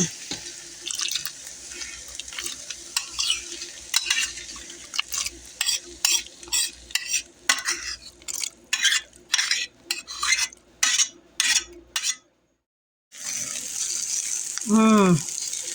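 Sliced onions brown in a hot pan as a spoon stirs them, a steady sizzle broken by rhythmic scraping and clinks, then a brief silence before the frying resumes with a warbling tone at the end.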